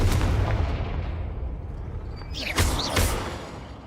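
A Confringo blasting spell going off in the Hogwarts Legacy video game, a heavy rumbling explosion with a booming low end that decays, followed by two sharper whooshing impacts, loud and with no talk over it.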